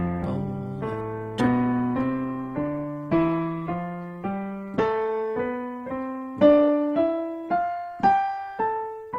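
A plucked instrument climbs and descends a major scale in groups of three notes, each triplet's first note struck harder, ringing clearly with no voices.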